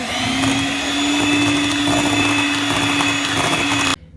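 An electric hand mixer beats marble cake batter in a bowl, a steady loud motor whine with a constant hum, running alone for about four seconds before cutting off abruptly.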